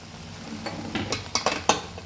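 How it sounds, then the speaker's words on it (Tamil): A spatula scrapes and clinks through kothu parotta frying in a pan, several quick knocks and scrapes over a soft ongoing sizzle. "அப்படியே போட்டு கிண்டிடுங்க"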